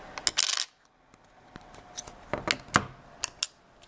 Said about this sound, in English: Go ahead and pop out the SIM card in this version here.